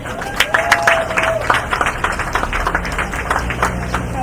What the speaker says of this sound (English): So I want you all to give yourself a round of applause.